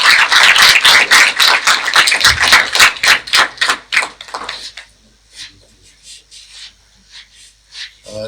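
Audience applause at a police sub-inspector passing out ceremony in Bhopal, a vigorous burst of rhythmic clapping that thins out and fades into scattered claps, with a voice briefly heard at the end.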